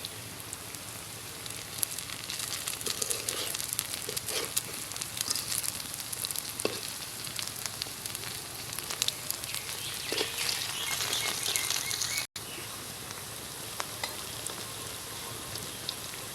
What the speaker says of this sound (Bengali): পাকোড়ার এক পাশ হয়ে গেছে, এখন অন্য পাশটা হওয়ার জন্য উল্টাই দিব